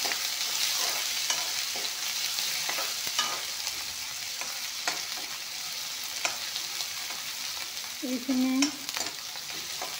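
Onion, ginger and garlic fry in a pan after a five-spice tempering, giving a continuous crackling sizzle with light stirring clicks, close by, and a brief voice speaks near the end.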